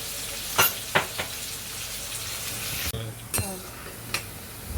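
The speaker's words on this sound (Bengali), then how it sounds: "তারপর ভাজা ভাজা করবো, করে ব্রাউন ব্রাউন কালার আসবে" Sliced bitter gourd sizzles and fries in a pan with salt, a steady crackle with a few sharp clinks of a spatula or utensil stirring against the pan, heard close and without talk.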